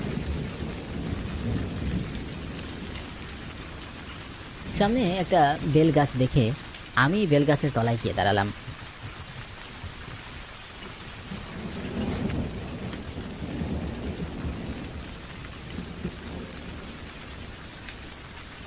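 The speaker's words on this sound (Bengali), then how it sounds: "বৃষ্টি থামার লক্ষণই দেখছিলাম না" Steady rain pours with low rumbles of thunder throughout, while a person narrates calmly over the storm for part of the time.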